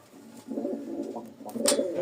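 Caged Lotan pigeons, including a Benarasi Lotan male, give soft, close, throaty coos in a brief rolling burst.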